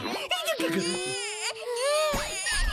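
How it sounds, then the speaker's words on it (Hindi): A baby cries loudly and close, with wavering wails and sobbing breaths, sustained throughout. "बच्चे के रोने की आवाज कहाँ से आई?"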